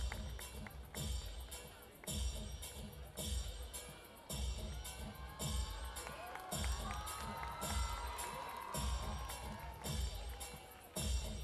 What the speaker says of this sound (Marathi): टाळ्या होऊन जाऊ द्या